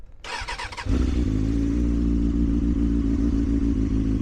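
A Kawasaki ZXR400 motorcycle cranks briefly with the choke on, then fires and settles into a loud, close, steady idle that holds for several seconds.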